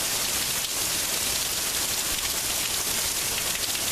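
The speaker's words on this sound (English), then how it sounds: "It is very raining outside." Steady rain falls outdoors on a rainy day, a dense continuous hiss of drops on wet surfaces and puddles near a balcony porch, even and unbroken throughout with no talking.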